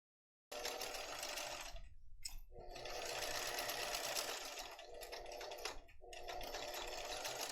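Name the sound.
Bernina sewing machine sewing over leather straps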